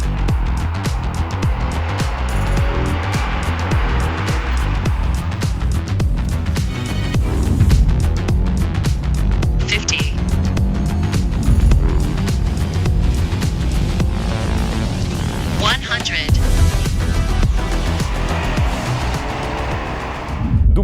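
A BMW X3 crossover accelerates hard during a performance test, its engine roaring loud and near as revs rise and drop through gear changes, with brief tire squeal, running for about twenty seconds with no voices.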